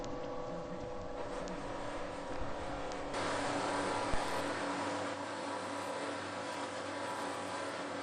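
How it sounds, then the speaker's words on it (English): A polishing mop buffs a Triumph motorcycle wheel hub, giving a steady, close whirring grind that grows louder and brighter about three seconds in and then holds evenly, with no talking. "Then you work your way through the different mops, gradually bringing up the shine to a very nice finish."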